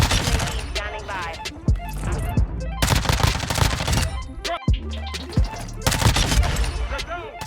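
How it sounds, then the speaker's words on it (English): Rapid bursts of automatic gunfire in Call of Duty Modern Warfare, loud and close, in repeated volleys with short pauses, mixed with game effects and occasional voice lines. "They're shooting at you."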